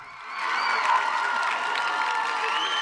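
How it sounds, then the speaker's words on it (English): A live improv comedy audience applauds and cheers steadily, a dense roar of clapping with scattered whoops, sustained throughout. "I'm just going to sit here and bask in that applause."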